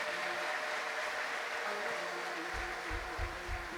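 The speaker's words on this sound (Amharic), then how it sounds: "እስቲ ለጌታ አጨብጭቡ እናንተ።" A church congregation claps together for the Lord, a broad, sustained wash of applause that turns into heavier rhythmic clapping near the end.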